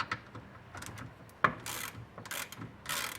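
Fasteners being loosened with a ratchet on a Lamborghini Gallardo Superleggera before a coolant drain, heard as a few close, quiet clicking ratchet bursts and one sharp snap amid faint workshop handling noise.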